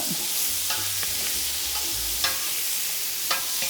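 A sofrito fries in a pan for an ossobuco, a close steady sizzle broken by a few sharp clinks of a spoon against the pan, with no talk.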